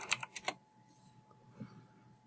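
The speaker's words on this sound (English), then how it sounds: "And I'll type my password." Several quick, distinct key clicks as a password is typed on a computer keyboard, bunched in the first half second and fairly close, then near silence with a faint click or two.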